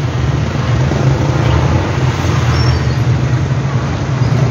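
Road traffic in Valencia City, heard from inside a slow-moving vehicle: a steady, loud low engine and road rumble with broadband traffic noise, continuous throughout and no voices.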